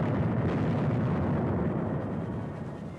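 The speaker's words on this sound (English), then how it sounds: "camouflaged 105 howitzers on gun carriages opened up with a bombardment of warning" Dense, continuous rumbling roar of 105 mm howitzers on gun carriages firing a warning bombardment in the North African campaign, a heavy low wall of blasts that holds steady and slightly fades toward the end.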